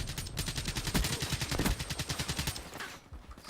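Gunfire in the video game Call of Duty: Black Ops 3, a rapid stream of close automatic shots in quick, even rhythm that eases off toward the end.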